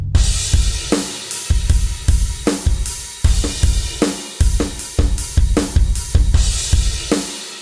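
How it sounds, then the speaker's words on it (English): Punchy electronic drums enter at the first drop of a produced track, a steady driving beat of heavy kicks and bright snare hits, loud and dense throughout. "So we have some new drums that come in."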